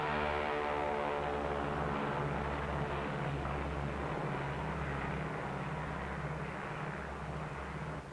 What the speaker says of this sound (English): Poised on the loading ramp is the B-29, Dave's Dream, bomb-carrying aircraft.